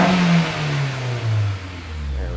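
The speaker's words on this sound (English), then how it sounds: "engine RPM's climbing" A Honda S2000 engine revving with RPM climbing, a smooth rising engine note heard close and fairly loud, continuous and alone without talk.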